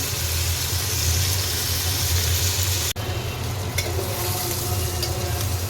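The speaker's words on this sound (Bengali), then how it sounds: "প্রথমে চিংড়ি মাছগুলো ভেজে নিচ্ছি" Prawns fry in hot oil in a pan, a loud, dense, continuous sizzle heard up close, with a brief clunk partway through and no voices.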